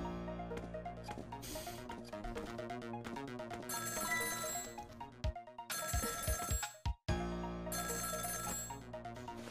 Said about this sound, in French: Appeler, ça va faire sonner, tu vois.